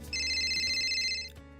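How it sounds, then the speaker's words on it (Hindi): An incoming-call ringtone chimes on a mobile phone, a bright repeating electronic tone that plays clearly for about a second over a low background drone, then cuts off. "एक कॉल आता है।"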